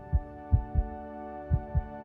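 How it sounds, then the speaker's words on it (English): Fast heartbeat sound effect: five heavy, low thumps in uneven lub-dub pairs over a steady droning hum, fairly close and moderately loud, with no talking. "A fast heartbeat isn't always danger."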